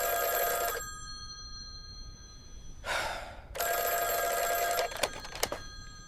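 Telephone bell ringing in an AI-generated Veo 3 scene of a distressed man, two bursts of harmonic ringing separated by a breathy noise, then a few sharp clicks near the end.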